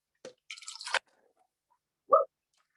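Ice water poured into a cup gives a short, quiet splash and trickle, followed a moment later by a single soft drip in an otherwise silent room.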